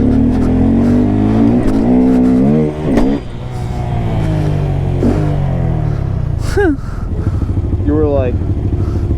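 Small Honda Grom motorcycles rev their engines up close, with buzzing throttle blips and revs rising and falling, while riders talk and shout over the noise.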